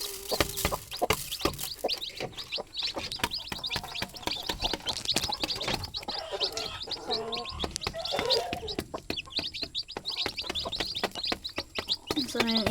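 Mother hen with thirteen little chicks, dense overlapping high peeping from the chicks mixed with the hen's low clucks, close and continuous, with a person talking intermittently underneath.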